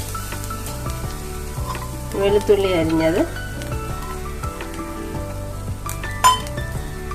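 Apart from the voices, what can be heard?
coconut being roasted in a pan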